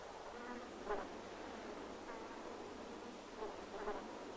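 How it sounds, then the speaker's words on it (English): Insects such as flies and bees buzz steadily around the tiny flowers of a candelabra euphorbia on a rocky kopje, a diffuse continuous drone with a few brief louder passes. "Its millions of tiny flowers attract large numbers of insects."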